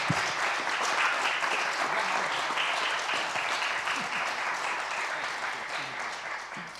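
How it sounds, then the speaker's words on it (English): An audience at a city council candidate forum claps to thank the candidates, producing steady, moderately loud applause that holds throughout and eases slightly toward the end. "Audience, please join me in thanking the candidates with our applause."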